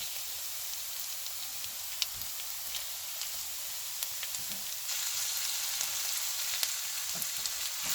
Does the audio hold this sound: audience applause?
no